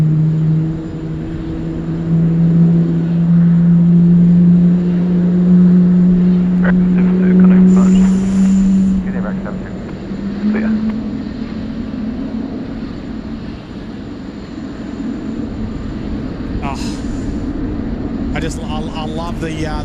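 Airliner with GE90 engines taking off at Sydney Airport on runway 16 right, a loud sustained roar with a rising whine that peaks early and then gradually fades as it climbs away, with voices talking over it.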